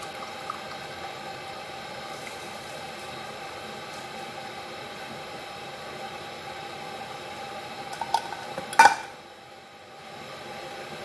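Melted Arab butter (ghee) strained as it pours, a steady soft liquid hiss and trickle throughout, with a brief clatter and splash near the end before it quiets.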